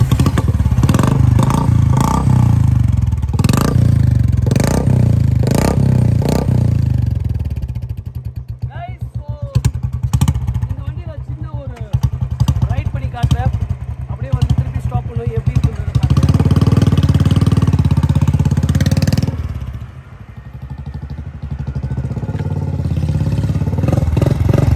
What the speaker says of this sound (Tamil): ஸோ இந்த வண்டியோட எக்ஸாஸ்ட் மோட் கேட்குங்க வாங்க